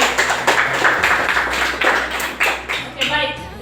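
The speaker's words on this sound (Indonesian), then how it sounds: "tepuk tangan dulu untuk Susan." A classroom group claps for a student after a peer-teaching lesson on global warming, a short burst of scattered, uneven claps close by with a low hum underneath, tapering off near the end.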